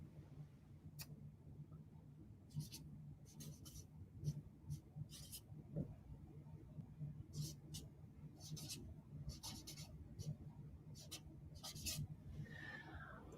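A pencil writes words on paper in quick, scratchy strokes, coming in short bursts separated by pauses. It is close but quiet, over a low steady hum.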